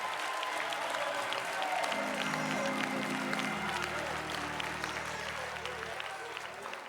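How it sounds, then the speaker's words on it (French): A church congregation applauds and cheers together, a steady dense wash of clapping with raised voices throughout, while a sustained low organ-like tone enters partway and holds beneath the crowd. "que quelqu'un se lève et acclame le Seigneur"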